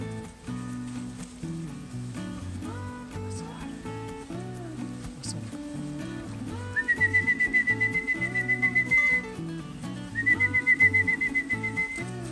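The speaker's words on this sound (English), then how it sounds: "Red thinks it was Adam whistling." A person whistles a clear, sustained tune in two bursts, over background music and a dog, with someone talking nearby.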